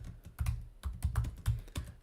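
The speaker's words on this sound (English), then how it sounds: "type in Crypto Wendio" Quick bursts of typing on a computer keyboard, a dozen or so close, crisp key clicks in uneven clusters, alone with no voice.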